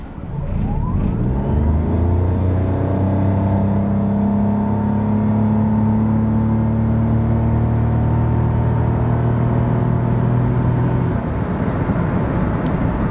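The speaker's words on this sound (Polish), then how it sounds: "Samochód tak przyspiesza od 0 do setki." A 2022 Mazda 2 Hybrid with a 1.5-litre 116 hp engine and CVT accelerates hard from 0 to 100 km/h. Its loud, droning engine note climbs, then holds at a near-constant pitch, as a CVT does, before easing off near the end.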